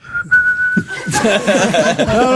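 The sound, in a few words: person whistling a tune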